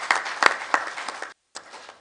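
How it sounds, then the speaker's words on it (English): A short round of applause from the audience at an annual meeting, dense clapping with a few sharper claps, breaking off into silence before resuming briefly. "And maybe we can give her a little round of applause."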